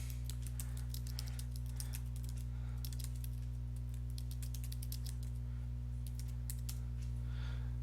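Rapid keystrokes on a computer keyboard as text is entered into a real-estate document template, clicking in quick irregular bursts with short pauses, close and clear over a steady low electrical hum.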